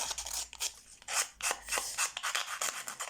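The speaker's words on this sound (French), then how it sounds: "je prends une vieille lime" An old nail file rasps along the edges of a glossy paper card, with repeated close scraping strokes in an uneven rhythm; no one speaks.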